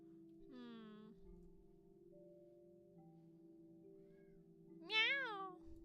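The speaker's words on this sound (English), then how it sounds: "That's my cat." A cat gives two distinct meows, a short one early and a louder, rising one near the end, over a steady low hum with quiet room noise between.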